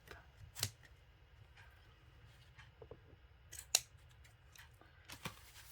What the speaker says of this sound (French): je découpe ce qu'il y a à découper qui dépasse